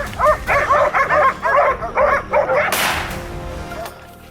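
A rapid run of sharp yipping barks from hunting dogs chasing wild boar, about eight in quick succession, followed by a sudden whip-like crack and fading noise.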